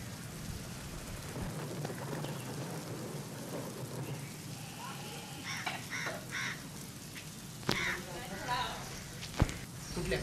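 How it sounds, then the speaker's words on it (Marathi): Heavy monsoon rain pours steadily in Sindhudurg, a constant hiss with occasional sharp thumps and distant rumbles, faint voices and a crow call in the background. "मुसळधार पाऊस झालाय।"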